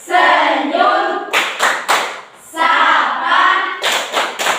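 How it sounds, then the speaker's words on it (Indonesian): A classroom of students claps in a rhythmic patterned chant led by a teacher, sharp bursts of hand claps alternating with group voices, loud and close. "Ya, tepuk tangan untuk semua."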